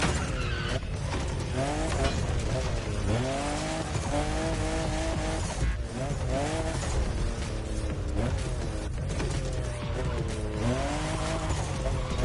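A Toyota Supra in The Crew Motorfest races with a loud, revving engine and repeated tire squeals as it drifts and skids, a continuous, busy game mix with no talking.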